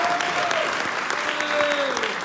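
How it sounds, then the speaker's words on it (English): Steady applause from a conference crowd, many hands clapping densely throughout, with a faint tonal whine running underneath. "I'm not looking for applause early on, hint, hint"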